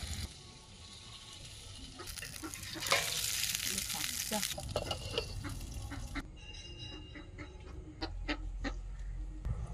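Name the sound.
cooking fish curry with eggplant, spices and water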